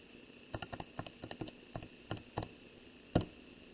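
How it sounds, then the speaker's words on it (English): Fingers tapping numbers into a handheld calculator, a quick run of light close clicks with short pauses and one firmer press near the end, quiet and without speech. "I can type that all in my calculator"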